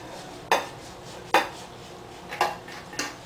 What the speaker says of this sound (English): Now add the ingredients to a 2-quart casserole.